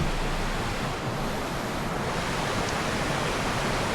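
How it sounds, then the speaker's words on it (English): A creek running downstream over rocks along a wooded trail, heard as a soft, steady rushing wash with no voices. "Look at that, the rocks and the water flowing through."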